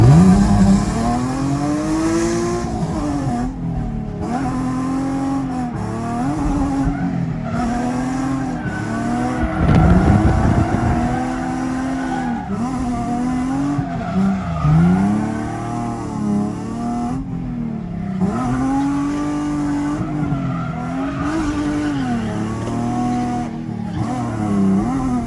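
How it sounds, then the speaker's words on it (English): Drift car ride-along at Fuel Fest in Tampa, Florida: a loud, close engine revs and falls in repeated sweeps while tires skid and squeal continuously through slides, with no talk. "Currently going for a ride along in one of the drift cars"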